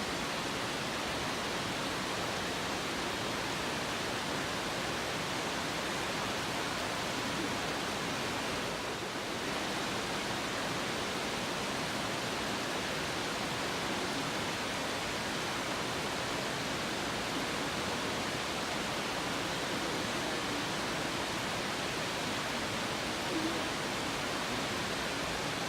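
Hidden Falls waterfall in Teton National Park roars as a steady, loud broadband rush of falling water, unbroken and constant throughout with no talk over it.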